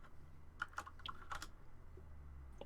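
Quick, faint clatter of computer keyboard typing, several rapid key taps in a short burst followed by a pause and a single later tap, set against a low room hum.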